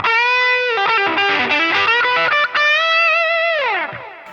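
A heavily distorted electric guitar plays a fast solo, notes bending and sliding, ending on a sustained note that bends down in pitch.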